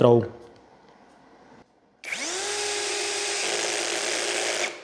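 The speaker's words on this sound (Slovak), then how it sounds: "A môžeš počúvať, mechanická spojka je dostatočne citlivá na to, aby nepretáčala hlavičky skrutky cez mäkké smrekové drevo" A Parkside PPBSSA 12 A1 12V cordless drill drives a small 3.5x16 mm screw into soft spruce wood, a loud rising motor whine that holds steady for a few seconds after a brief quiet gap.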